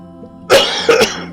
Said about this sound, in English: I'm sorry, coughing so much.